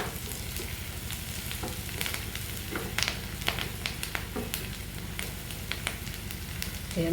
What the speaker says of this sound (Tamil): கருவேப்பிலையும் நல்லா வதங்கட்டும்.